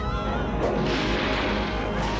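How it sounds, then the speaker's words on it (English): A cartoon monster crushes a police station building, a dense, continuous roar of smashing and crumbling debris that stays loud and broad throughout. "It's crushing the police station!"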